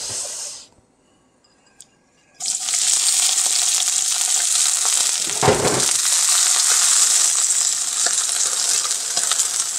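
Mixed vegetables and onion sizzle and sauté in olive oil in a pan, a steady loud frying hiss that begins abruptly after a short quiet pause and continues unbroken, with a brief stirring scrape partway through.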